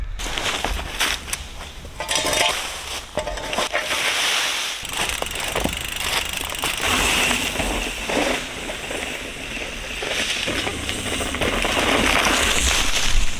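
Dirt is packed down while shaping a bike jump, with repeated dull, crunchy thuds and scraping, close and loud, in an irregular rhythm.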